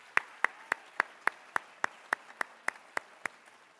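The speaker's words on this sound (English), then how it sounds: "So a big round of applause for the Board of Education and Dr." A single pair of hands claps slowly and evenly at a high school athletic awards event, about a dozen sharp, moderately faint claps in a steady rhythm with no voices.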